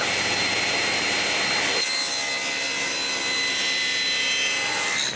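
Hand saw cutting the wood cheeks of a mortise joint, a steady rasping stroke sound that runs continuously and loud at close range, with the character shifting partway through.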